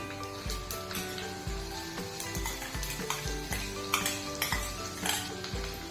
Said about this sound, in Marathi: जिरं चांगलं तडतडलंय आता आपण हिंग घालूया